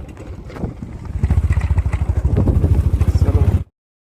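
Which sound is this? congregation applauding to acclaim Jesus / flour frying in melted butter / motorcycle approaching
motorcycle approaching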